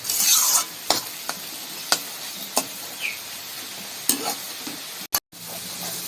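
Water spinach and prawns stirred and fried in a pan over a high flame: a steady close sizzle broken by sharp, regular scrapes and clacks of the spatula against the pan, with no talking.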